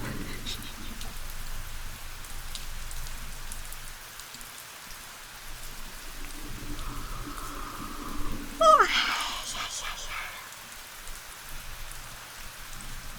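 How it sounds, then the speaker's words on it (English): Recorded rain ambience playing quietly in the background of a co-working stream, a soft constant hiss of falling rain with a brief brighter burst of sound near the end. "I have the rain sound on"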